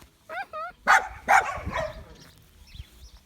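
A dog whimpers and yips in a few short high cries, then gives louder barks close by, with people talking around it and some handling noise.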